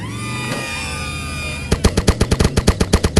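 Rapid gunfire from a weapon in a video game, a loud burst of roughly a dozen sharp shots in quick rhythm after a stretch of steady game ambience with a sweeping tone, no speech over it.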